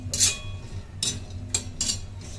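Dry coconut roasting in a pan for Malvani mutton, stirred with a metal spoon: four or five crisp scraping and clinking strokes over a faint low hum, close and fairly quiet.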